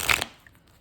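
A brief riffle of a linen-finish deck of playing cards, one quick close papery burst that fades to near silence.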